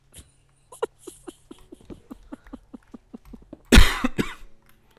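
A sick person coughs hard in one loud burst near the end, after a run of soft clicking and tapping sounds, close to the microphone.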